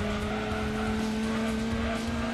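A Toyota race car's engine drones at a steady high pitch in Gran Turismo 2, a constant loud synthesized whine with faint tire noise and no speech.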